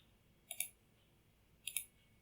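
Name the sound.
computer mouse clicking on Blender viewport axis dots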